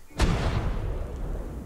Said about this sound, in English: cannon test with Darkwood Walls beginning now